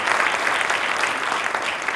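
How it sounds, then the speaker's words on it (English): A seminar audience applauds steadily, a dense wash of clapping hands that fills the whole moment. "Please give them a big round of applause"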